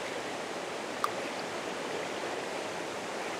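Water of a stream flowing steadily at an iconic landscape location, a continuous close broadband rush with no pauses, and a single brief faint click partway through.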